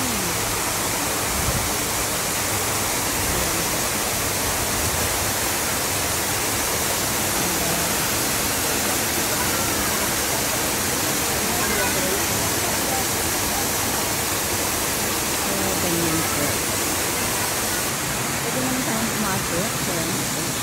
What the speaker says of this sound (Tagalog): So ito po ang falls dito sa Yonlong.